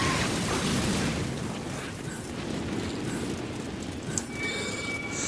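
Horse galloping and neighing in the Darksiders video game: a dense, rumbling rush of hooves and noise fills the stretch, with a brief pop near the end and a thin whinny-like tone trailing off.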